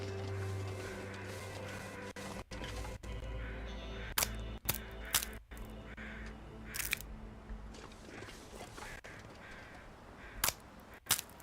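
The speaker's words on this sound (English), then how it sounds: "I can hear crows in the distance." Crows caw a few times in the distance, short harsh calls spaced irregularly over a steady low outdoor rumble.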